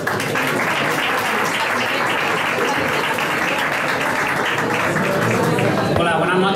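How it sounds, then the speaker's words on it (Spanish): Sustained applause from an audience at a guide launch presentation in a Estepona restobar, steady and dense throughout, with some crowd voices mixed in and the clapping thinning near the end. "Un aplauso para ellos."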